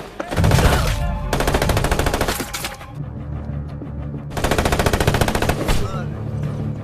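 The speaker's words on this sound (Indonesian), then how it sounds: "salah satu polisi korup ada yang menembak Jack sehingga terjadilah baku tembak" Loud bursts of rapid automatic gunfire fill a film shootout between corrupt police officers and a lone man, with two long volleys separated by a brief lull, plus scattered shots and a low rumbling background.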